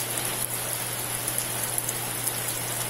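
Heavy rain falls without pause during a flood, a dense, steady hiss of drops close by with no voices.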